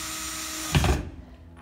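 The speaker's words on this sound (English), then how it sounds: "just drill them right in until they stop" Power drill driving machine screws into a potholder rug loom, a brief whirring burst under a second that stops abruptly over a steady background hum.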